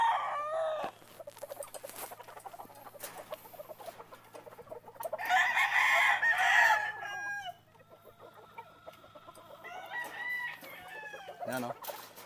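White Kelso gamefowl roosters at a breeding gamefarm crow loudly and cluck, with one long crow standing out midway and softer clucking and calls around it, fairly close.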